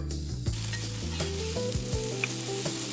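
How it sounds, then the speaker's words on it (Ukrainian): Chopped onion frying in a pan, a continuous bright sizzle with occasional stirring scrapes and taps over a low steady hum, close and uninterrupted. "Обсмажуємо цибулю до золотистого кольору"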